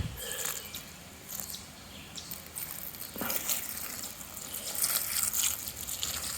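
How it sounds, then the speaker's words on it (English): Vinegar poured onto loosened soil around a wild blackberry plant makes a steady, close splashing and gurgling of liquid that keeps going for several seconds, rising a little near the end. "I'm gonna pour some vinegar in on it."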